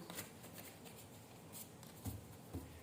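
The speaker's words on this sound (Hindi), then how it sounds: "This is my last shuffle." Tarot cards shuffled softly, a faint close rustle with a few light taps and riffles, quiet and alone.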